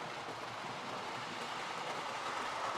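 A battery-powered Murdoch locomotive from the Thomas Wooden Railway rolls along its track with a steady, faint, continuous rumble and clatter, with no pauses.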